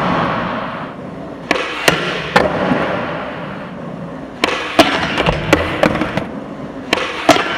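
Skateboard wheels roll over rough ground, then sharp tail pops and clacks ring out as a skater tries a skid nollie, with several loud board impacts and landings spread across the stretch and no talking.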